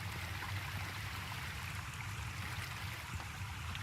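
Rushing water from a waterfall in the game The Fabled Woods, a steady broadband roar that holds even and unbroken throughout with no voices.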